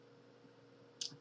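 A single sharp computer mouse click comes near the end against a quiet room hum, brief and crisp, with no speech.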